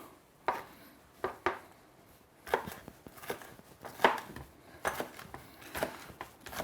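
A knife roughly chops green pepper on a board, with about a dozen crisp, close, uneven strikes and no talking.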